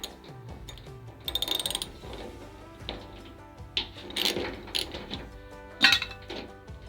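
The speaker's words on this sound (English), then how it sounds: "We'll get the ratchet to" A ratchet tightens a rivet nut on a repair panel of a classic Austin car, giving close bursts of rapid clicking with metallic clinks between them.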